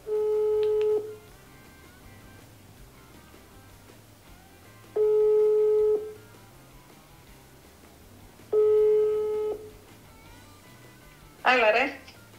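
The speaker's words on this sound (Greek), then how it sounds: "ας την πάρουμε ένα τηλέφωνο." A phone ringback tone repeats three times, each long steady beep separated by a few seconds of quiet, followed by a brief crackling burst.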